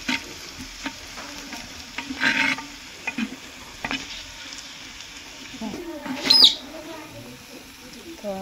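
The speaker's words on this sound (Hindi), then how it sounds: "ginger garlic paste पकेबा" Ginger garlic paste fries and sizzles in a clay pot for a mutton curry, a steady crackling hiss with intermittent stirring scrapes and a brief louder clatter near the end, with faint birdsong in the background.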